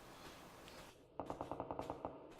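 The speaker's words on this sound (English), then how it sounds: "I think I was more concerned about those gunshots, where they're coming from." A rapid burst of about nine gunshots in the battle royale game PUBG, evenly spaced, sharp and fairly faint, following a quiet stretch of ambient game noise.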